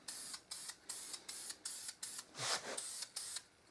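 Spray paint hisses onto car wheels in a light first coat, as a series of about ten short, steady bursts with brief pauses between them, close and fairly quiet, with no talking.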